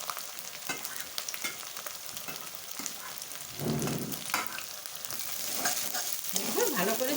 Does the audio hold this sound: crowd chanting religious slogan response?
no